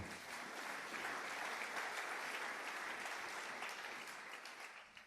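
A church congregation applauds together during a French-language sermon, a dense, steady wash of clapping from many hands that holds for several seconds and tapers slightly at the end.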